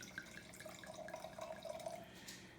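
Wine trickles into a glass as a small tasting pour, a faint, soft and steady liquid stream heard alone for a couple of seconds in a quiet room.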